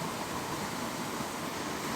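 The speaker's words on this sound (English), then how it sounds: "There's the waterfall, as you can see in the background." A waterfall on a bush track in Hanmer rushes in a dense, even roar of broadband water noise, steady and unbroken, with no voices over it.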